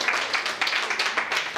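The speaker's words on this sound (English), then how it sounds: "Please give a round warm of applause to Julia Jordan" Close, lively applause and clapping from a seated audience at a community event, dense and steady with slight swells, with no talking over it.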